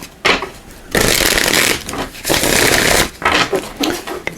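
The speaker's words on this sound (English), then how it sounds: "It's a shuffle." Tarot cards are shuffled by hand in loud, close, rustling bursts, several riffled passes separated by short pauses.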